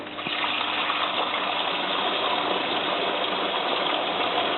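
A Bosch WFF2000 washing machine takes in water, a steady, even rushing hiss of filling that continues without a break and sits at a moderate level, free of talk.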